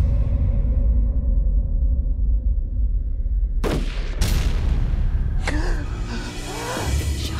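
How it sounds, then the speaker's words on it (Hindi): Gunshots in a courtroom drama scene: a steady low rumble, then two sharp loud bangs a moment apart, followed by tense gasps and echoing noise. "गोली चलने की आवाज है।"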